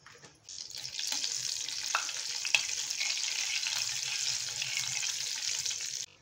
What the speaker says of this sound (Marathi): त्यात मी राई ॲड केलेली आहे, मस्टर्ड सीड्स, हिंग ॲड केलेलं आहे